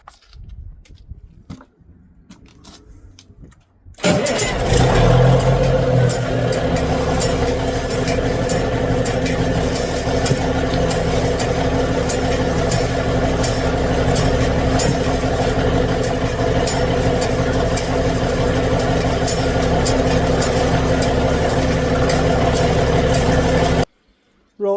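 An engine cranks and catches after a quiet start, then settles into a steady, loud idle that runs on evenly for about twenty seconds before cutting off.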